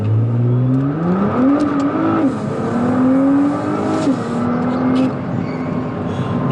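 A Nissan GT-R accelerates hard from a standstill to 60 mph on a clear road, its loud engine climbing in pitch through quick gear changes with brief dips between shifts.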